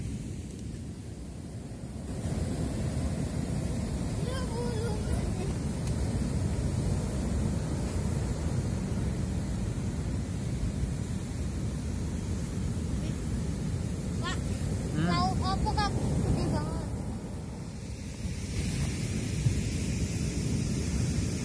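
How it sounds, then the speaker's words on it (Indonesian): Surf on the south-coast beach at Pandansari, Yogyakarta, rolls in as a steady low roar with wind noise across the microphone, swelling slightly as the tide rises. Faint voices and chirps sit above the wash. "Sepertinya ombak sudah mulai pasang teman-teman."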